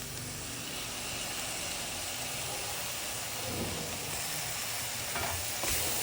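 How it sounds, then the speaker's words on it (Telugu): Chopped fenugreek leaves frying in a pan: a steady, close sizzling hiss runs throughout, with faint scraping of stirring near the end. "వేసి మెంతికూర పచ్చి వాసన పోయే వరకు వేయించాలి."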